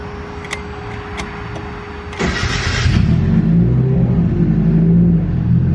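A turbo Mazda Miata is started: a few faint clicks and a fuel-pump whine, then a short cranking burst as the engine catches and settles into a loud, steady idle rumble.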